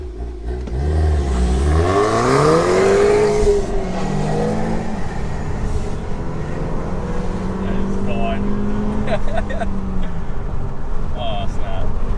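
A 2019 Toyota Camry XSE with a 2.5L engine and an axle-back quad-tip exhaust revs up in a rising, climbing note, then settles into a steady drone. A voice talks over the engine.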